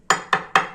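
Three crisp, loud crunches in quick succession, each a sharp brittle snap of fried choux dough pastry (bala el sham) breaking apart up close.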